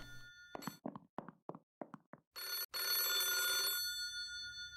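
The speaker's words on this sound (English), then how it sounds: "that's the phone ringing." A telephone bell in a video game rings after a run of short knocking thumps, then sounds as a loud sustained trill, cut briefly before resuming and fading.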